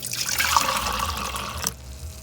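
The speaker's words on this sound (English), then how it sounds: "So I've got my boiling water. It's very hot water to mix in with my sugar." Boiling water is poured onto sugar to make simple syrup, a steady close splashing, gurgling stream that stops abruptly near the end.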